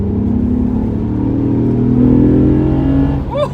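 A 2008 Honda Accord coupe V6 with a manual gearbox accelerating through third gear, a loud, close engine note rising steadily in pitch before easing off at the end.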